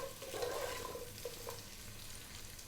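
Carrots and green beans sizzle in a pan as the base for a slow-cooked lamb stew, giving a steady, moderately loud frying hiss throughout with no talking.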